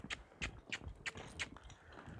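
Horse being broken in on its second ride, walking forward with a steady, even clip-clop of hooves, fairly soft against a rough background rumble.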